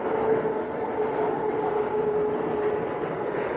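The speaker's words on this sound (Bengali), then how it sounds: "ওপর থেকে ট্রেন যাচ্ছে।" A train rumbles across a bridge directly overhead near a flower garden, a steady continuous roar with a faint mechanical whine holding for the whole stretch, close and fairly loud, with no voices.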